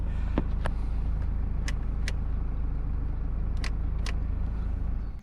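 Audi A4 B8 engine running steadily at a low, even idle rumble, close and continuous, with a few faint clicks on top and no rise in revs.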